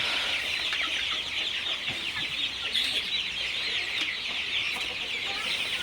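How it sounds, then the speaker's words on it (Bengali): A flock of 36-day-old broiler chickens on a farm during rain clucks continuously in a dense, overlapping chatter at moderate volume. "মুরগিগুলো আমার আপনারা দেখতে পাচ্ছেন মুরগিগুলো আজকে ছত্রিশ দিন বয়স"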